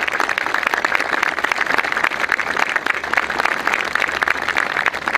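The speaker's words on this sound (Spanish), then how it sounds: "brindemos un fuerte aplauso de agradecimiento a las autoridades provinciales" A crowd at a civic housing event in San Carlos Centro gives hearty applause of thanks to provincial authorities, heard as brisk, fairly close clapping throughout.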